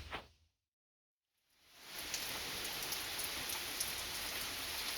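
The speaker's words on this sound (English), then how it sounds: "the raindrops on the Jeep" Steady rain pattering on a Jeep nearby, with scattered sharper drips, starting after a brief silence at the beginning.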